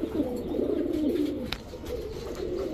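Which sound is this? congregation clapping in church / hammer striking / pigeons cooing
pigeons cooing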